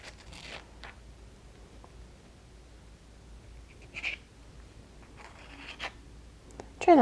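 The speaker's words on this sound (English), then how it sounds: "Scoop the other half out of its shell." A spoon scoops an avocado half out of its shell on a kitchen cutting board, giving soft, faint scraping strokes that come in a few short bursts with quiet gaps between them.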